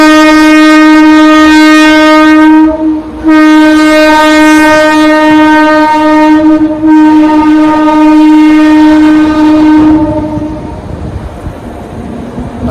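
A train passes close by, its horn blaring loud and sustained for about ten seconds with a brief break, over a rumbling rail noise that fades out at the end.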